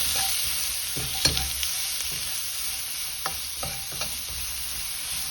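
Beef, ginger and spring onion stir-fry sizzling steadily in a hot pan over high heat, with a few sharp clinks and scrapes of stirring, close and continuous with no talk.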